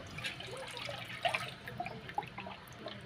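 Boiled rice starch for stiffening clothes is poured into a mix of water and blue, giving a faint, close liquid trickle with small splashes and drips over a few seconds, without talk.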